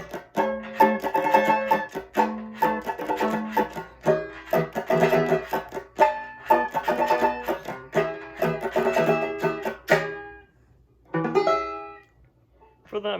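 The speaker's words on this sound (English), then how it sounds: "If you translate that to banjo, again, it sounds like this." Plectrum banjo playing chords adapted from guitar, bright plucked strums in a steady rhythm for about ten seconds, then a short pause and a few final ringing strums, close and fairly loud with no talk.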